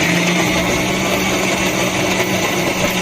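A mixer grinder runs continuously with a steady, loud whirring drone as it grinds coconut masala paste, with no pauses over the few seconds.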